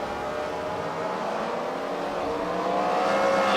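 Race cars drive around the track at the Freedom Factory during a CWRL fight night, a steady loud engine drone with rising revs toward the end and no voices.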